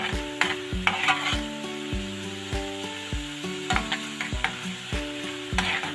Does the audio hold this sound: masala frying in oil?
yes